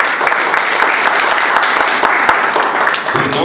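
A church congregation breaks into loud, close, continuous applause, a dense wash of clapping that thins slightly near the end.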